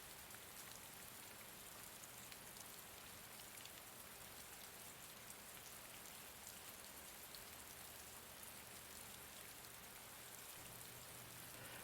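Steady rain falling and pattering on surfaces, a dense even hiss holding without pause throughout, soft and enveloping, with no voices.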